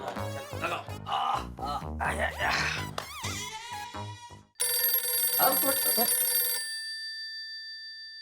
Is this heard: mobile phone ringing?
yes